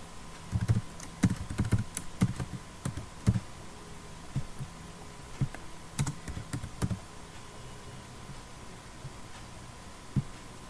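Someone types a network default gateway setting on a computer keyboard, sending quiet, irregular key clicks in clustered bursts over a low steady hum, with the tapping thinning out toward the end.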